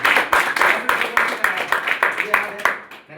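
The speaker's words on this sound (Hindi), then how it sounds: "आपकी स्लो मोशन की तालियों के साथ" Audience applause in slow, spaced rhythm, roughly a dozen separate claps landing about every quarter second, moderately loud and fading out at the end, with no talk over it.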